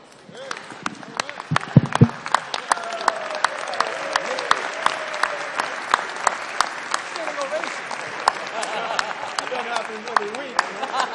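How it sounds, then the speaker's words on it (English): Applause in the House chamber for a visiting guest being welcomed, with a few first claps swelling into steady, dense clapping from the assembled members and faint voices underneath. "applause and welcome him."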